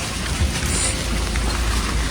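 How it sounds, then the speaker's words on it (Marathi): Rain falls in the muddy Kasol market in Himachal, a steady broadband wash of drops with a low rumble underneath, continuous and fairly loud, no voices. "पाऊस अजून पण पडतोय."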